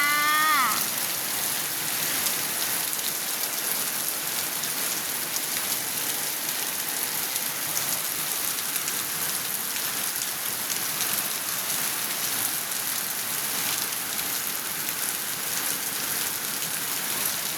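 Steady rain pours down in a dense, even hiss of drops hitting surfaces, constant and fairly loud throughout with no voices.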